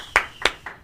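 Audience clapping for a politician, a few sharp separate claps in a short, loose burst.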